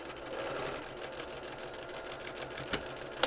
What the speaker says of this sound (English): Fold it under and stitch across